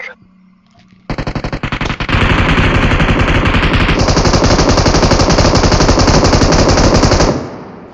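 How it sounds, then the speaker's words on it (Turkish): Loud, rapid automatic gunfire in the video game PUBG Mobile, a continuous burst lasting several seconds, growing denser partway through before cutting off. "ateş sesi geldi ya ondan dedim"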